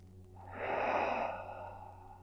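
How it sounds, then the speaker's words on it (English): A single slow, deep breath during a gentle yoga session for chronic back and joint pain, swelling and then tapering off, close and soft over a low steady hum. "One more breath."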